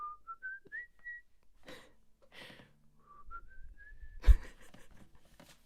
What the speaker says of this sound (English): I always whistle.